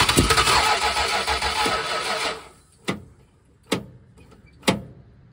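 Starter cranking the engine of a 1970 Plymouth Roadrunner fitted with six-barrel carbs, which fails to catch for lack of ignition power; a loud, close cranking run is followed by three short separate bursts of cranking.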